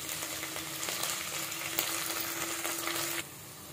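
Ingredients fry in hot oil for a gongura chicken curry as a handful of mint goes in, a steady close sizzle with a faint stirring scrape, cutting off abruptly near the end.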